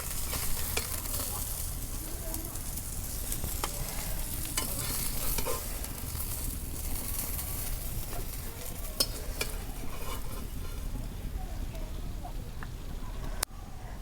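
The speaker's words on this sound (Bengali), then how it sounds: "মাছ ভাজা হচ্ছে আর নামে নেই" River fish frying in hot oil in a Bangladeshi kitchen, a dense continuous sizzle and crackle close by, steady throughout with a few sharp pops and no talking.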